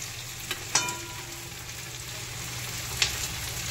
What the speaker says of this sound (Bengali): মাংসগুলো সব ভাজা হয়ে এই যে ফুটে আছে